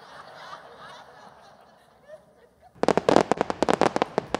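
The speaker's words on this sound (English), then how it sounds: "These are my fireworks." Recorded fireworks played loudly over a sound system in a large room, a rapid volley of sharp crackling bangs and booms that starts abruptly after a stretch of quieter murmuring and faint voices.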